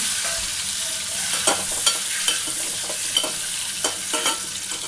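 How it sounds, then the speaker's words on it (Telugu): Boiled eggs fry with turmeric in oil in a pan, a steady bright sizzle running throughout while a spatula stirs and scrapes in several distinct clicks, with no voices. "మనం ముందుగా ఉడికించుకున్న గుడ్లను వేయాలి వాటిని బాగా ఫ్రై చేసుకోవాలి"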